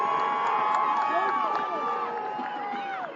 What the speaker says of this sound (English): the Menominee Maroon fans again into this one, cheering on their team